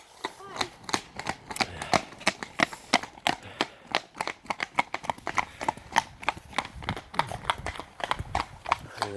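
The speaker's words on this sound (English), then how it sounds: "Horses coming past." Horses, a pair of large seventeen-hand animals, pass close by with a steady, brisk clip-clop of hooves on hard ground, the rhythmic strikes loud and continuous throughout.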